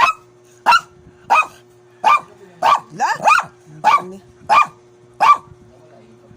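Several dogs bark in short, sharp bursts at a steady rhythm, about nine barks with a brief overlapping flurry in the middle, fairly close, over a low steady hum and a faint voice.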